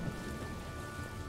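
A heavy downpour with thunder in Sniper Elite V2, a dense, loud, constant roar of rain with deep rolling rumble beneath, unbroken from start to end.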